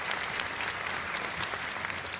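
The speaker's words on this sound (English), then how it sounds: "Give yourselves a round of applause." Steady audience applause fills a keynote hall, dense and sustained from start to end with no pauses.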